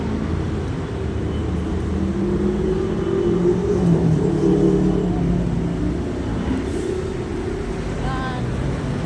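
Vehicles passing on a light, uncongested highway, a moderate continuous road drone with one car swelling by nearby, while someone talks.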